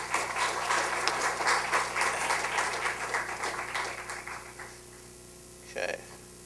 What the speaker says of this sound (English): Please, a round of applause for everybody